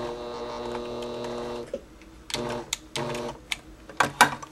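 A sewing machine stitching a fabric burp cloth hums steadily for about a second and a half, then stops, followed by several separate sharp clicks and taps.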